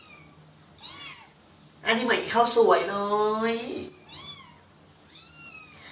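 Several kittens meow in short, high, rising cries at home, with someone speaking loudly in the middle and the meows continuing around her voice.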